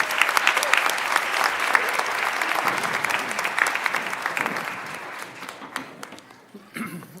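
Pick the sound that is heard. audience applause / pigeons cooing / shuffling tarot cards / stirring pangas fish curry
audience applause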